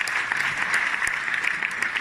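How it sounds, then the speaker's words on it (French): An audience claps for Stéphane in a continuous, steady burst of applause that fills the room at an even, moderate level. "on peut applaudir Stéphane"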